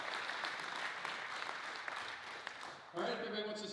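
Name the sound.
Rotary meeting audience applauding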